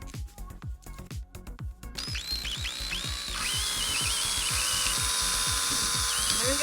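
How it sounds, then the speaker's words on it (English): A power drill with a bit sized to match drinking straws bores holes through plastic bottle caps, heard as a rapid train of sharp, rhythmic grinding bursts, then a steady high whine, close and moderately loud. "With a drill bit the same size as the straws to make the holes through the bottle caps"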